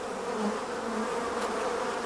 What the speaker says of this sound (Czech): Včely uprostřed vytvářejí teplo chvěním létacích svalů.